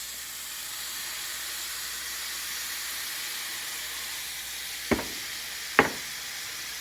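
Ingredients for loaded burgers, seasoned with black pepper and Worcestershire sauce, sizzle steadily in a pan with a constant broad hiss, broken near the end by two brief clacks of utensils, with no talking.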